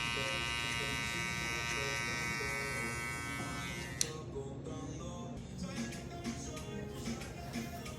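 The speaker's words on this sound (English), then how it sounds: "Now with the corner of my clippers" Electric hair clippers buzz steadily and close while cutting hair for a mid skin fade, the whine shifting tone midway as the blade meets the hair, with faint ticks and brief voice in the background.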